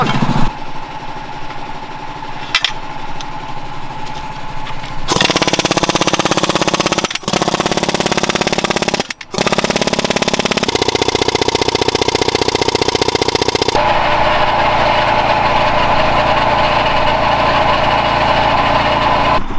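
Engine-powered post driver driving a fence post, its small motor running loud and continuous with fast hammering chatter. Brief cuts break the sound, and the tone shifts between sections.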